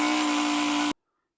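A Dremel rotary tool whines at a steady high pitch for just under a second, then cuts off abruptly into silence.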